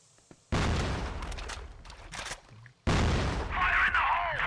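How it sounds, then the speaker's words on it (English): Explosion in the CrossFire video game: two sudden loud blasts with rumbling decay, the second followed by ringing whine and gunfire-like crackle. "big explosion right in front of your eyes"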